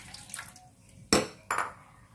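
Water poured into a pan for a chili, garlic, palm sugar and tamarind dipping sauce for cireng, with a bright splashing pour and a second shorter splash after faint kitchen clinks.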